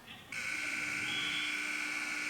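At a high school wrestling match, a period-ending buzzer sounds as a loud, steady electronic tone that cuts in abruptly and holds for about two seconds.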